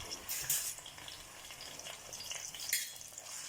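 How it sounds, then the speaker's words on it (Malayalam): Garlic, ginger, green chilies and curry leaves sauté in hot coconut oil, giving a soft, steady sizzle with brief louder crackling bursts as the pan is stirred, close and fairly quiet with no talk. "വെളിച്ചെണ്ണ നല്ലോണം ചൂടായതിന് ശേഷം 1 ടേബിൾ സ്പൂൺ വെളുത്തുള്ളി ചതച്ചത്, 1 ടേബിൾ സ്പൂൺ ഇഞ്ചി ചതച്ചത്, അതുപോലെ 5 പച്ചമുളക് ചെറുതായി അരിഞ്ഞതും കുറച്ച് കറിവേപ്പിലയും കൂടിയിട്ട് വഴറ്റിയെടുക്കാം"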